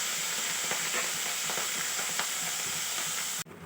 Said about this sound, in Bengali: সব মাছ একসাথে দেবো না, অল্প অল্প করে মাছগুলো দিয়ে ভেজে নেব।